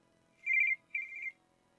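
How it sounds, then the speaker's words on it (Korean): A telephone rings twice in a quiet room: two short, clear electronic trills separated by a brief pause, with no other sound around them. "다음 날 전화."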